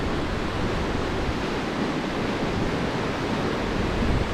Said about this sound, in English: The waters are dropping, but look at that, still incredibly dangerous.